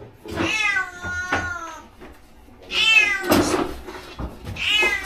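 A noisy pet cat named Esmeralda meows three times indoors, loud and close, with long drawn-out cries separated by quiet gaps, plus a faint knock in between.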